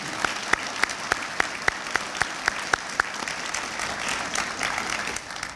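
An audience at a university chancellor's report gives sustained applause to welcome distinguished guests to campus, with a crowd clapping steadily and a few sharp, distinct claps standing out early on.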